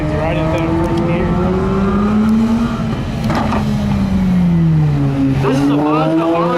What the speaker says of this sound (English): This is a Mazda RX-8 that's running right now.